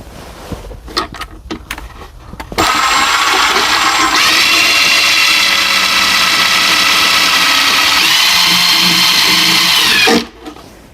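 A power drill drives 2.5-inch screws into a cabinet stud, with a few short taps and clicks at first, then one loud sustained whir lasting about eight seconds before it cuts off.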